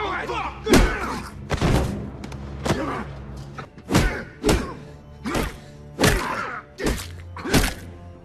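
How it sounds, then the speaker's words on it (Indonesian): Brutal punches to the face in a film fight, a series of about nine heavy, separate thuds and whacks spaced irregularly, each loud and close with short decays, over a faint background. "Sue pun langsung memukuli Cyrus dengan brutal di wajahnya"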